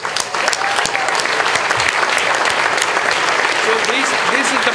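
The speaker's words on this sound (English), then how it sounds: "Let's give them a big applause." Audience applause at a Clinton Global Initiative gathering, a steady dense wash of clapping that holds at an even, loud level for the whole stretch without a break.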